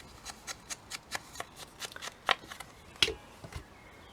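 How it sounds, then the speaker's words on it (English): Scissors cutting the corners off paper for a quilt journal, with a steady run of about a dozen crisp, close snips and two sharper cuts near the end. "I'm just quickly going to cut the corners"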